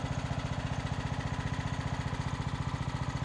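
A Briggs & Stratton 5 hp engine, model 130202, runs steadily at a rapid, even putter, loud and close, with no talking over it.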